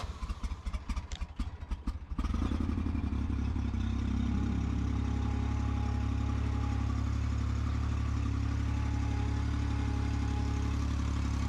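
A Ventrac 4500Z tractor engine cranks over with a rapid clattering churn for about two seconds, then catches and settles into a loud, steady, close idle that drones on unbroken.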